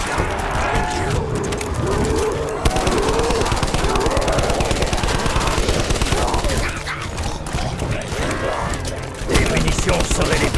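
Dense automatic gunfire rattles almost nonstop in Call of Duty Black Ops 4 zombies mode, loud rapid bursts layered with impacts and game effects, with a voice heard faintly underneath.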